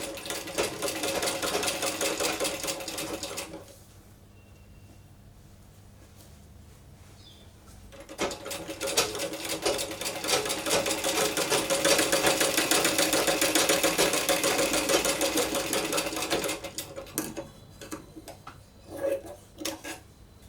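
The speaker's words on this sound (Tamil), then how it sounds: "இதை அப்படியே வந்து நம்ம மிஷினில் ஸ்டிச் பண்ணிக்கிறோம்" An electric sewing machine stitches a puff sleeve together with its border and lining in long continuous runs, a fast mechanical whir broken by short pauses and ending in a few brief start-stop bursts, with no talking.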